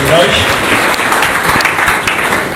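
Audience at a public event in Mbandaka breaking into loud, sustained applause, a dense close wash of clapping that carries evenly throughout.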